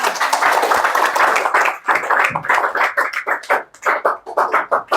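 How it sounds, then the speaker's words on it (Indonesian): Audience clapping at a candidates' debate for village head, steady dense applause at first that thins into scattered, separate claps as it fades out. "Beri tepuk tangan."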